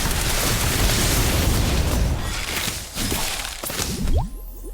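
A Confringo blasting spell bursts in a Harry Potter video game, a loud booming explosion with crackling debris that rumbles and decays over several seconds before small pops and a quick whoosh at the end.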